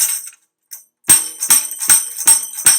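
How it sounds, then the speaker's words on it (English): A tambourine shakes its jingles in a few short bursts, then settles into a steady series of five bright, crisp shakes at an even beat, close and clear with no talking. "That's what the tambourine sounds like."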